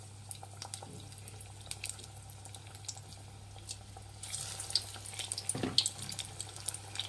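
Onion bonda batter dropped into hot frying oil sets off a bright hiss and sizzle partway through, rising over a steady low kitchen hum with faint drips before it.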